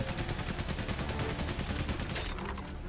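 Gunfire in the World War I game Valiant Hearts: The Great War, a rapid, evenly spaced rattle of shots that runs steadily and then thins out near the end.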